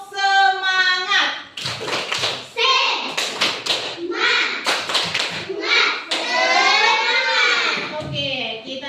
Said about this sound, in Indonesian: sekarang kita coba dulu tepuk semangat